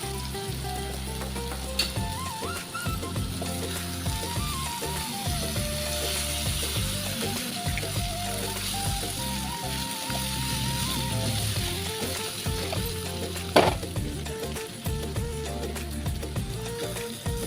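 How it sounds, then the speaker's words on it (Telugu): Boiled potatoes tumble into a pan of stewed tomato gravy and fry with a steady, even sizzle, joined by occasional scraping and stirring clicks near the pan; no one speaks. "టమాటా మగ్గినాయి కదా, మనం ఉడకపెట్టుకున్న ఆలుగడ్డను వేసేయాలి."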